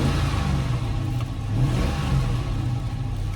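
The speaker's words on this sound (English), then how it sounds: "Oh, and it's a V8. But is it making some noise?" A V8 police car engine revs hard at auction: a loud, sustained mid-range roar with small surges in pitch, close by with no talking.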